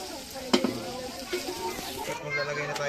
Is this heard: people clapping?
no